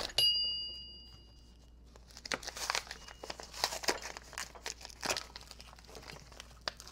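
Someone tears open crinkly, secure packaging up close, making bursts of crumpling and ripping with short pauses between them. It is fairly quiet, with no talking.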